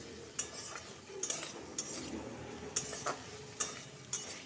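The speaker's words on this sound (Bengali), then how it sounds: "তখন কচুগুলোকে দিয়ে দেব কচুগুলোকে দিয়ে কিন্তু ভালো করে ভেজে নিতে হবে" Taro pieces fried in a pan with tomatoes, with a spatula scraping and clicking against the pan every second or so over a faint, low sizzle, quiet and close.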